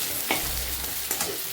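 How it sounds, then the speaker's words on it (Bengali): Potatoes frying in hot oil in a home kitchen pan, a steady close crackling sizzle with a few sharper stirring clinks over about a second and a half, no talk. "এদিকে এবার আলুগুলোকে আগে ভেজে নিই।"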